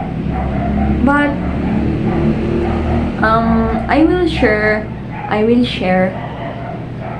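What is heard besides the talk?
dog barking in the background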